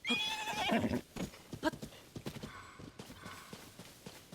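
A horse in the video game The Legend of Zelda: Tears of the Kingdom whinnies loudly at first, followed by a series of irregular hoof clops and soft thuds.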